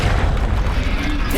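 A Bombarda spell explosion in the Hogwarts Legacy video game: a loud, close, deep boom that fills the short moment with a dense rumbling burst and no quiet gap.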